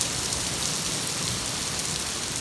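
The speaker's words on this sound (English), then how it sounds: "It's starting to hail, and with a metal roof, you're not going to hear a thing I'm saying." Hail pelting a metal roof, a dense, steady, loud hiss of countless impacts with no pause, filling the whole stretch without any talking.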